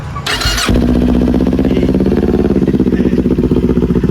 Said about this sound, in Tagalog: Ito ang problema kapag sa big bike yung cold start.